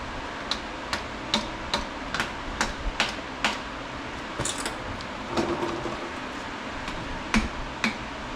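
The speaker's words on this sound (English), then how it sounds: "Not a regular hammer, it's a dead blow hammer" Steady series of sharp, dull knocks from a dead blow hammer during cylinder barrel removal, roughly one every half second, close by, with a brief pause midway.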